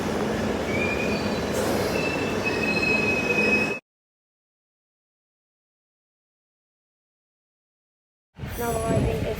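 A London Underground Victoria Line train arrives at a platform with loud rumbling and high wheel squeal, broken by a long silent gap before the rolling noise resumes at the end.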